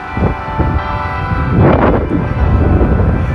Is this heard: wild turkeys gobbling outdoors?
no